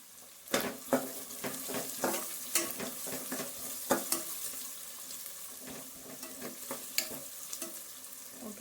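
Spices tempering in hot oil give a steady, crackling sizzle, broken by repeated clinks and scrapes of a spoon stirring against the pan. The sound is close, with no one speaking.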